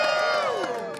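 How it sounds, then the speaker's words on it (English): Rally crowd cheering and whooping, a dense wash of many voices sustained for about a second, loud and close. "Can we just clap for that"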